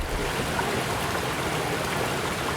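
Water flows in a steady, dense rushing wash like a stream, constant and moderately loud with no voices.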